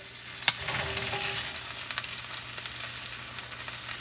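A chicken breast fries in a pan, giving a steady close sizzle that runs the whole time with a sharp crackle early on and no talking.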